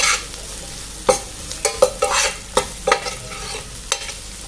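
Ginger garlic paste sizzles in a pan for pav bhaji as a spoon stirs and scrapes it repeatedly in quick, uneven strokes, close up and fairly loud.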